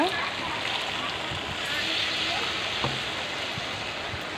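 Broth is poured into a pot of mutton curry with potatoes, giving a continuous watery splashing stream at moderate volume, with a soft murmuring voice underneath.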